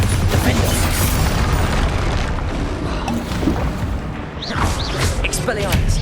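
A Bombarda spell explodes in Hogwarts Legacy on hard difficulty, a loud booming blast over dense battle noise, with swooshing spell effects and spoken incantations mixed in.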